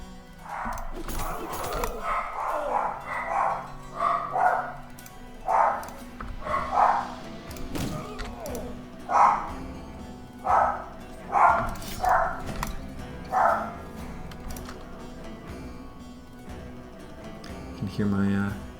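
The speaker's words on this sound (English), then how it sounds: "I can hear my dogs freaking out for some reason." Several pet dogs barking and yelping in agitated bursts from another room, fairly distant and muffled, with a person talking over the commotion.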